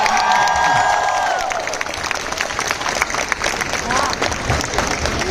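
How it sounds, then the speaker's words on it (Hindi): Loud, dense applause from a large crowd at a World Book Fair event, with cheering and scattered shouts mixed in, sustained throughout. "क्या बात है, जोरदार तालियां।"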